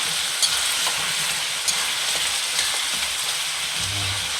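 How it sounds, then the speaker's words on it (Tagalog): Pork ribs with tomato paste sizzle and fry steadily in a pan, with a few scraping clicks from a spoon stirring them, and a low thump near the end. "haluin lang natin"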